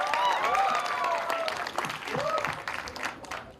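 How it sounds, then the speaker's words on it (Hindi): A crowd claps and cheers in steady applause while a voice speaks over it, the clapping fading somewhat toward the end. "जोरदार ताली होनी चाहिए।"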